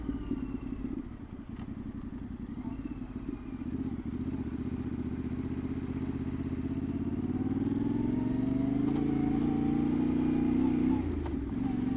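A Yamaha Tenere 700 motorcycle rides along a road on a Sunday outing, its engine a steady low drone close by that climbs as it accelerates near the end, with no talking.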